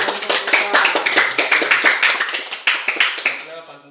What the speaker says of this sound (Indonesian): tepuk tangan buat kelompok putra.